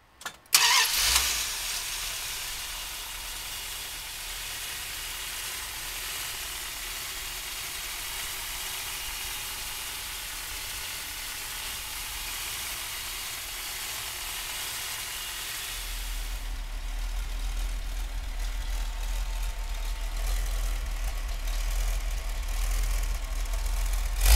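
A 1973 Plymouth Barracuda's 440 V8 cranks and catches with a sharp start, then settles into a steady, loud idle that deepens and grows heavier toward the end, with no talking over it.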